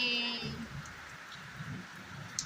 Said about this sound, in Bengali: দেখো কেমন বৃষ্টি হচ্ছে চারদিকে